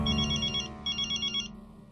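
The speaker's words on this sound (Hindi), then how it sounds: "जेठालाल आज लैंडलाइन से कैसे फोन कर रहा?" A landline telephone rings indoors in a sitcom household, two electronic trilling bursts separated by a short pause, clear and close with no talk over them.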